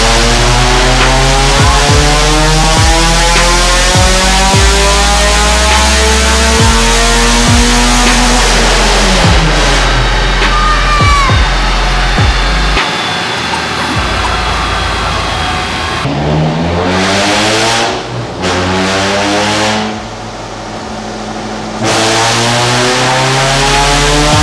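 A Peugeot 106 GTI engine revs hard on a dyno, its loud, sustained roar climbing and falling in pitch through repeated sweeps. Brief dips come late in the run.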